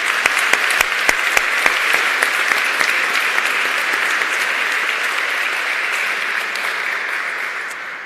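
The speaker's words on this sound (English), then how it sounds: "a round of applause for our shortlisted nominees in this category too" A gala audience applauds shortlisted award nominees, with crisp individual claps at first merging into a loud, continuous roar of hands that slowly tapers off.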